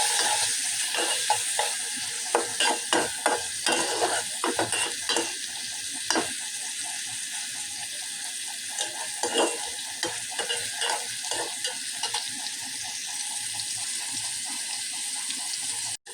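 Prawns fry with chili powder, turmeric and salt in a pan, sizzling steadily while a spatula scrapes and stirs in uneven bursts of clinks and scrapes close by, with no talking.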